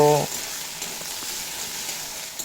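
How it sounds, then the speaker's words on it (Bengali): Ground spice paste fries with potatoes in a pan while cooking kulekhara greens, a steady close sizzle that carries on throughout, after a brief tone at the start. "এবার এড করে দেব বেটে রাখা মশলা দিয়ে কাঁচা গন্ধ চলে যাওয়া পর্যন্ত এই আলুর সাথেই ভেজে কষিয়ে নেব"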